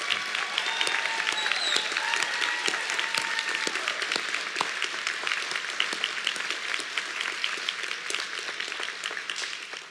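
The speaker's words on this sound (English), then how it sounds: "we can give them a round of applause." Sustained applause from a graduation audience at Ferguson High School honoring the teaching and support staff, a dense, steady wash of many hands clapping that holds for the full stretch and tapers only slightly at the end.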